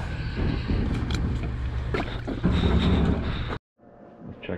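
Small fishing skiff motoring back into Coos Bay, Oregon, a loud steady engine drone with rushing wind buffeting the microphone, cutting out abruptly near the end to quieter background.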